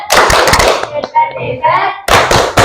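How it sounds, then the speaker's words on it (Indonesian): A group in an Indonesian classroom-style session performs the rhythmic 'tepuk hebat' clapping chant, sharp loud claps in bursts with a melodic chanted phrase between them, closing with another burst of clapping. "Tepuk hebat."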